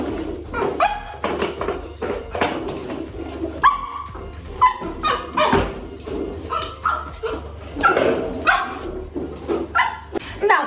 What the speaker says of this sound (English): Now that the dog calmed down